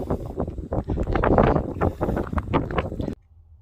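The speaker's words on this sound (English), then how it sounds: "Or I can talk without the wind affecting." Gusty outdoor wind buffets the microphone at Spirit Mound, making a rough, rumbling roar in uneven surges that cut off abruptly just before the end.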